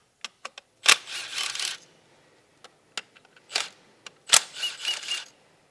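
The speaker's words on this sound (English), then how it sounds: "with our 10 millimeter, so we're going to remove the bolts from the coils" A 10 mm socket works loose the coil bolts on a 2017 Kia Sportage: sharp metallic clicks and short ratcheting bursts, close and quiet, in a few separate groups with pauses between.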